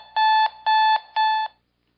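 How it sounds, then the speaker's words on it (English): A Sonic Boom alarm clock with bed shaker sounds its loud audio alarm: three identical sharp electronic beeps in an even rhythm, close and clear, then silence. "This Sonic Boom alarm clock features a loud audio alarm with adjustable volume."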